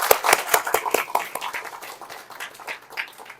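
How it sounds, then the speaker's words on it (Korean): A church congregation applauding together: a dense burst of clapping, loudest at the start, then thinning into scattered claps that fade over a few seconds. "감사의 박수 보내드리겠습니다"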